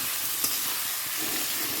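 Potatoes frying in a pan, a dense, even sizzle that hisses steadily for the whole short stretch with one faint tap.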